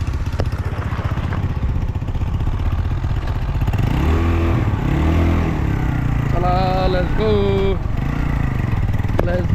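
A motorcycle engine makes a loud, abnormal noise: close, constant rumbling and clatter, with rising revs and a whining tone partway through.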